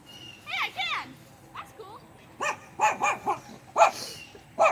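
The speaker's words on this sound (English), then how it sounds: "Are you barking at her, Daisy?" A dog barks near a yard hole, with a few sharp, close barks in separated bursts. Faint voices sound in the background.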